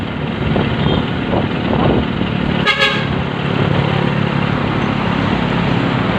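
A truck rolls past on a quiet road at night around nine, its engine a loud steady rumble close by, with a short horn toot partway through.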